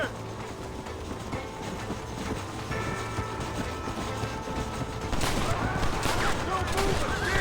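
Rapid video game gunfire crackles through a busy battle scene, with bursts of shots sharpening near the end over a steady rumbling background.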